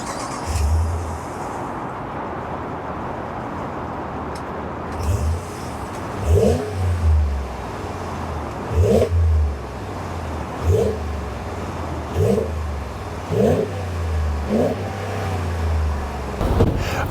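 A stock Ram 1500 pickup truck's exhaust idles with a low rumble, then is revved in about six sharp bursts at steady intervals, each climbing and dropping back, close and loud.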